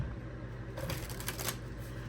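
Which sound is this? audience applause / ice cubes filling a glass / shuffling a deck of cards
shuffling a deck of cards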